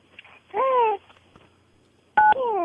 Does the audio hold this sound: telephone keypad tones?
yes